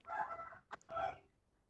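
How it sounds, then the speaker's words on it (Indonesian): A rooster crows once: a faint, distant, drawn-out call broken into a few parts that fades at the end, with no talk over it. "Ini ada suara ayam, Miss dengar berkokok."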